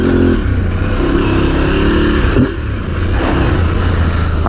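An Aprilia Tuareg 660 adventure motorcycle ridden off-road in a church parking lot: its engine drones loud and close, dips briefly as the throttle eases, then picks up again, with wind and gravel noise over it.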